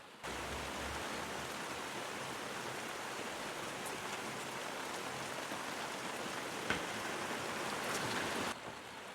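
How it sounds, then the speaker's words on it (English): Steady rain falls across a Welsh garden, a dense even hiss of drops on surfaces that holds constant for the whole stretch, with one brief sharper patter partway through and no voices. "It is raining."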